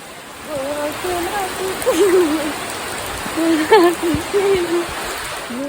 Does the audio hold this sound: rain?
yes